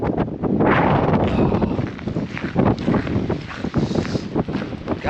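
Strong wind blows outdoors on a farm, buffeting the microphone in a loud, continuous, gusty rumble.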